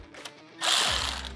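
A hand ratchet tightens a serrated flange nut during a Frontier supercharger kit install on a Nissan Z1 D41, with a soft click before a sustained, loud ratcheting burst up close.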